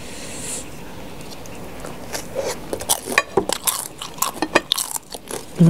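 Crisp bites and crunching into fried Thai spring rolls (popia), starting quietly and growing into loud, close, irregular crackles, with faint clinks of dishes or cutlery in the background.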